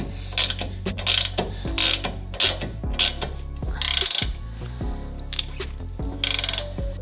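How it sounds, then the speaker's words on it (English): A ratchet wrench tightens the nut on a new FOX Performance Elite 2.5 shock mount of a Toyota Tacoma, with about a dozen clicking bursts separated by short pauses, close and loud with no speech. "I'm gonna take my ratchet wrench to tighten down the nut"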